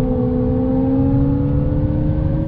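Alpine A290 electric hatchback lapping the Nürburgring, its motor giving a loud, steady rising whine with strong road and tyre rumble, alone without talk.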